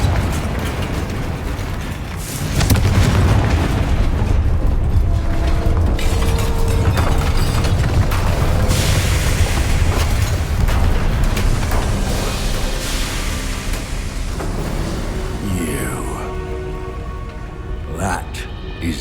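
A Confringo fire spell bursts in Hogwarts Legacy amid a loud, crackling, shattering wash of battle noise, sustained and dense with sharp debris-like crackles, with a voice speaking over it.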